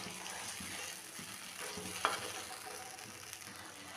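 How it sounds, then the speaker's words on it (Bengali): Fish stirred into a pan of simmering milk for a Bengali doi-style katla curry, giving a steady soft bubbling sizzle with occasional scraping clicks of a spoon, close and alone with no talk. "এক কাপ দুধ দিয়ে দিলাম, দিয়ে ভালো করে মিশিয়ে নেব।"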